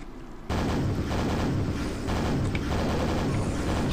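Ceiling-mounted enemies firing bolts downward in the Quake re-release on Xbox One, a dense continuous barrage of loud crackling blasts that starts abruptly and rolls on without pause.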